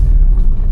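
A 27-year-old Maruti 800 creeping forward in gear on idle with no throttle, a loud, close, steady low engine rumble throughout.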